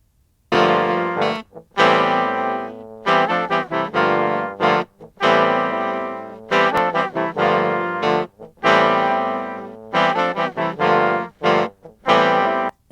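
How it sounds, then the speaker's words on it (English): An AI-generated horn section made in Ace Studio from a guitar idea plays bright, brassy, distorted-sounding phrases in short punchy bursts and sustained notes, loud and dry, with no voices. "Okay, now let's hear just the horns."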